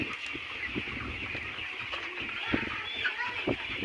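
A flock of about two thousand layer pullet chickens on a farm cluck and murmur as a dense, continuous background chatter with a few sharper calls standing out, moderately distant and soft throughout.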